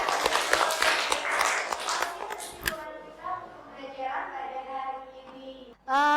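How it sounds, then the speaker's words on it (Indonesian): Children in a classroom clap in a short burst that stops after about three seconds. Speech and voices follow the clapping. "kasih tepuk tangan juga buat Rafa ya."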